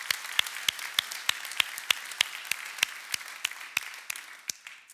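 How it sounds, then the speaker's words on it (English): A conference audience claps in a short, sparse round, with distinct individual claps ringing out close and rhythmic before fading toward the end. "So maybe just a quick round of applause"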